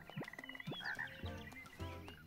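A cartoonish frog in the video game The Plucky Squire croaks four times in quick succession, loud and close, with bright game sound effects flickering between the croaks.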